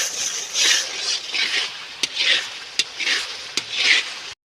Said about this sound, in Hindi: मसाला अच्छे से भून लिया है